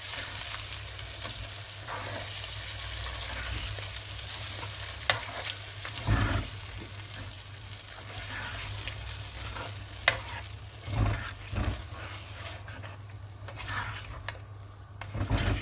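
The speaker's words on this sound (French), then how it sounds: "Et je vais mélanger tout doucement." Cream for an endive gratin is stirred slowly in a hot pan, giving a steady soft sizzle with gentle scraping strokes and a few louder knocks against the pan, heard alone and close.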